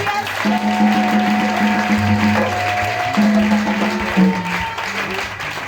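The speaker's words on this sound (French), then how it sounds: "Acclame-le très fort" A church congregation applauds and cheers in a dense, sustained roar of clapping and voices, with instrumental music playing underneath.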